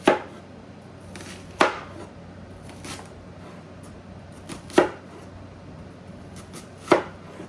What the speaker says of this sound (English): So I cut it like that, and now I'm just going to slice it.